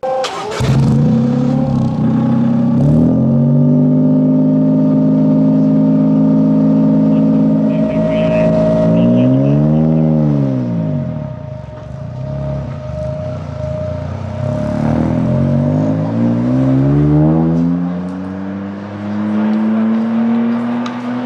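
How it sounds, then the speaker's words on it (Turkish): Exhaust of a Toyota Corolla Sport running a hydrogen combustion engine, a loud, continuous engine note that rises and falls through revs and gear changes, heard up close and alone. "Hatta daha geçtiğimiz günlerde egzoz sesinin videosunu paylaştı."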